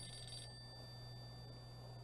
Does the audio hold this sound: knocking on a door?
no